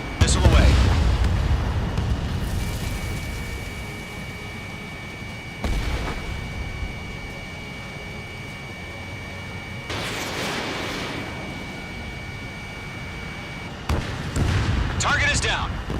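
A missile launches and explosions boom in Ace Combat 7, with a few heavy, rumbling bursts spaced several seconds apart over a steady jet drone, while a voice talks throughout.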